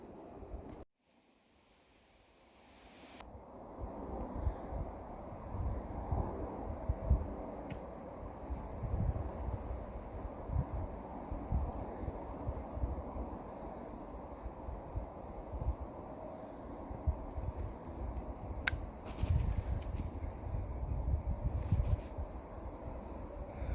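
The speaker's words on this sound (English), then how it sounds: "Too windy." Steady outdoor wind buffets the microphone in broad rumbling gusts, loud and continuous throughout, with no voices.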